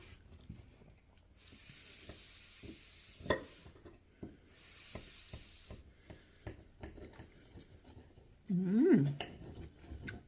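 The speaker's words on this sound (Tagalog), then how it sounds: "Ngayon, naggisa na lang ako ng kamatis" Chopped tomatoes are sautéed in a pan for sarsiado, with scattered utensil clinks and scrapes and two short bursts of soft sizzling, fairly quiet and close, ending with a brief hummed voice.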